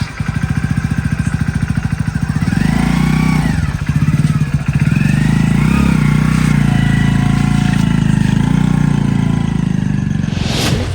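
A motorcycle engine idles loudly up close, a steady pulsing rumble with a brief rev in the middle and a short high noise at the end.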